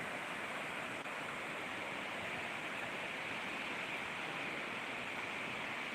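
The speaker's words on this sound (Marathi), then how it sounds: "पाणी पडते" Waterfall at Kavleshet Point in Amboli, Konkan, a steady broadband rush of falling water, continuous and even, heard from a distance with no talk.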